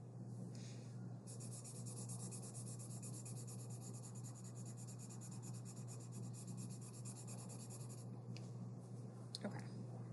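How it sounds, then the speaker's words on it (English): A marker shades a hand-drawn Christmas tree trunk on paper, giving a steady soft scratchy rub that runs close and continuous for most of the stretch, with a faint low hum beneath. "just kind of shade in that tree trunk there"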